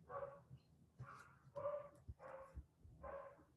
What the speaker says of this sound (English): Oh, my dog is going absolutely insane.